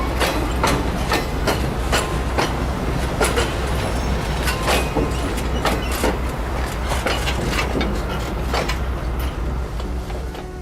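A train rolls along in the Trainz railroad simulator game, a steady loud rumble with repeated clickety-clack wheel beats running throughout, no voices.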